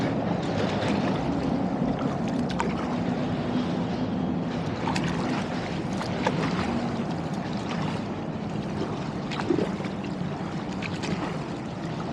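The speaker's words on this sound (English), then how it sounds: "not used to paddling in strange currents that are kind of swirling around." A kayak moving along the Harlem River in New York City through swirling currents, heard as a steady, loud wash of water and wind throughout with no clear separate strokes; no talking.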